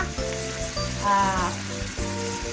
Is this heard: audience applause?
no